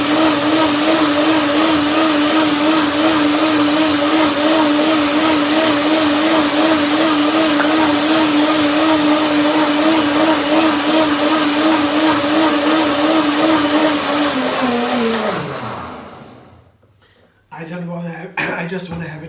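A power blender whirs steadily at loud volume while puréeing turmeric pea soup, a sustained motor hum with a wavering pitch that winds down and stops near the end, followed by brief faint handling noise.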